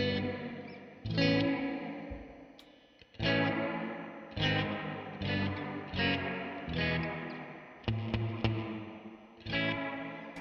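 Electric guitar runs through a DIY reverb, tremolo and delay pedal with every knob turned fully up, giving heavily effected, wavering chords with long trailing echoes in repeated phrases over ten seconds, alone and without talk.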